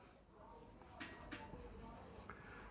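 Pen writing account entries by hand during a partnership accounts lesson, with faint scratchy strokes and a few sharper taps as the pen marks the page, fairly quiet and close.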